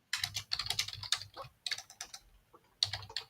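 Rapid keyboard typing in bursts of clicky keystrokes, close and fairly loud, with short pauses between runs and no voices.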